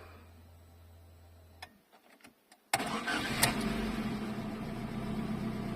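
A VAZ 2110 with an oil pump problem starts after a faint hum and a few clicks, then abruptly catches and runs with a loud, steady roar.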